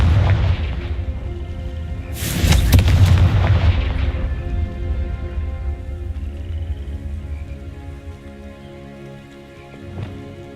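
The Confringo fire spell goes off in a wizarding video game with a heavy booming blast and crackling burst, followed by a long rumbling, hissing decay fading to quiet, and a faint knock near the end.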